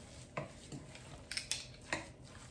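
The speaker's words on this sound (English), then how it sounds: "I'm going to mix it, and then I'm going to dive in with my hands" A utensil stirs vegan lentil meatball mixture in a bowl, giving soft, close scrapes and a few sharp clinks against the dish, with no talking.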